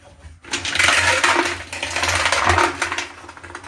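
Stainless steel bolts rattling and clattering inside a motorcycle fuel tank as it is shaken, a dense metallic jangle starting abruptly and continuing in two close, loud bursts.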